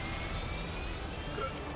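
A helicopter in the Helldivers video game drones in a steady, broad engine roar that holds evenly through the whole moment, with faint voices underneath.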